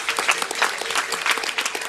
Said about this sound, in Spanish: Este podría ser el último aplauso semanal a los sanitarios